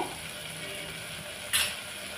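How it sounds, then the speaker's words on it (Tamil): Snake gourd sautés in a pan, a soft, even sizzle close by, with one brief scraping stir of a spoon partway through and no talking. "ஒரு 2 நிமிஷம் நல்லா வதங்கட்டுங்க. இது புடலங்காய் ஒரு 2 நிமிஷம் நல்லா வதங்கிடுச்சுங்க."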